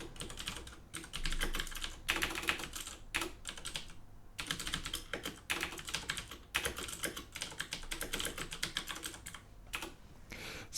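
Rapid typing on a computer keyboard, bursts of crisp close-up key clicks with short pauses between runs, steady and alone without speech.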